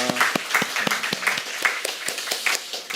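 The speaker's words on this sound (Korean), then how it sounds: "이 은혜를 주신 주님께 우리 영광의 박수 올리겠습니다." A church congregation at Sunday worship claps together, a short burst of brisk, irregular applause from many hands filling the room for a few seconds.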